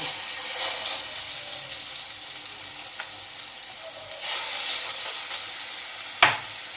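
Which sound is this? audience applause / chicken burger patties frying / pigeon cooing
chicken burger patties frying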